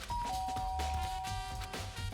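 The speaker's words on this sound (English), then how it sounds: "I press the doorbell." A doorbell rings in the Danganronpa video game, a clear electronic chime with sustained tones, loud and alone with no talking.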